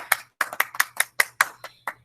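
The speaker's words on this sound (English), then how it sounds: "let's all give them a round of applause" A small group claps for first grade award winners at a school awards gathering, about ten distinct sharp claps in an uneven rhythm, close and fairly quiet, with no talk over them.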